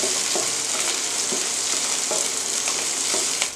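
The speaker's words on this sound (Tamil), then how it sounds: "வெங்காயம் நல்லா வணங்குற வரைக்கும் ஒரு அஞ்சு நிமிஷம் கிளறிட்டே இருக்கணும்" Onions sauté in a pan for tomato kulambu under a constant, dense sizzle, with spatula strokes scraping through it every second or so. Close and fairly loud, no voices.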